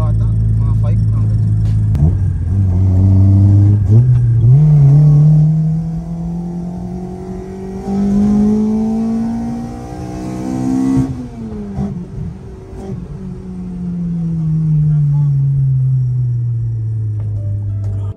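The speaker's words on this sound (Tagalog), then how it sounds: "Ito na yung naririnig mo yung makina." Toyota Corolla engine revving hard, climbing and falling in pitch over several throttle sweeps with a loud, close, gravelly exhaust tone; voices talk over it at times.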